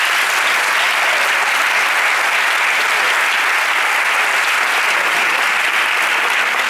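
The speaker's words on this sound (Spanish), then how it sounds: "Gracias por el aplauso." Sustained, loud applause from a theatre audience at a Spanish short film festival evening, a thick even wash of many hands clapping without pause and no speech on top.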